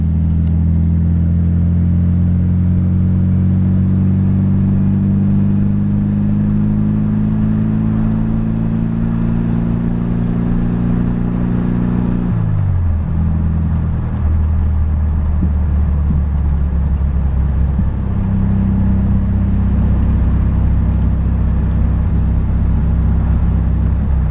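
A 1979 car with a fully rebuilt engine hums steadily as it drives, its pitch rising gradually, then dropping sharply midway as it shifts and settles into a lower drone.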